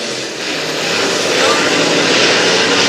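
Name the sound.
Super Stock race cars racing around speedway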